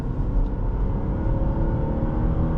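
A 2014 Cadillac SRX engine pulls steadily under acceleration from inside the cabin, a low, even hum with road rumble and no talking.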